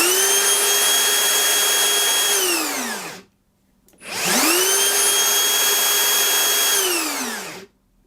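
A Makita 40V half-inch cordless plunge router runs at full speed in two long bursts, each spinning up to a loud steady high whine and then winding down as the brake stops it, with a short quiet gap between. No one speaks over it.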